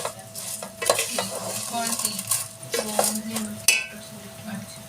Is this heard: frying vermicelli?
yes